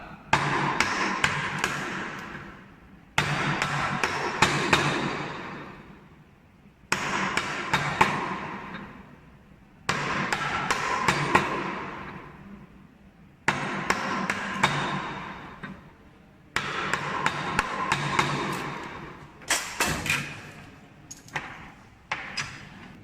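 A chisel chips layer by layer into a wooden workpiece for a dovetail halving joint, in bursts of rapid sharp taps and knocks separated by short pauses, close and fairly loud.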